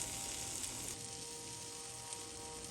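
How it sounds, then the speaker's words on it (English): An egg in a hole with homemade sausage sizzles quietly in a pan just after flipping, a steady faint crackle throughout with no talk. "Now it's time to flip our egg in a hole."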